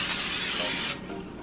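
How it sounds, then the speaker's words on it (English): Pam cooking spray hissing onto a cooking sheet in one loud, close burst of just under a second, then cut off to a quiet room. "I have my cooking sheet here. I'm gonna go ahead and spray it with some Pam spray."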